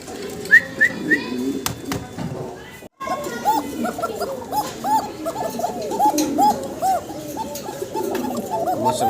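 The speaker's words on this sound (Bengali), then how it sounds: "দর্শক ডাক শুনতেছেন আপনারা ককা কবুতরের চমৎকার ডাকাটাই করতেছে" White Pashiraj fancy pigeons cooing in a loft, rhythmic repeated coos close by, mixed with other bird calls and a dog's whimpers while someone talks over them.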